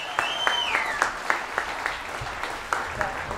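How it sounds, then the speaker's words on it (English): An audience at a school band telethon claps for the band students, a sparse, fairly loud run of separate hand claps with a whistle-like tone sliding over the start and a voice faintly underneath. "Can we get another round of applause for these amazing students?"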